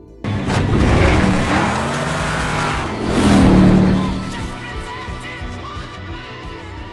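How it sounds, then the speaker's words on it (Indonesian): A car in an action film pulls away, its engine swelling loudly and revving up before fading as it drives off into the distance. "Setelah itu Driver menjalankan mobil untuk menuju suatu tempat."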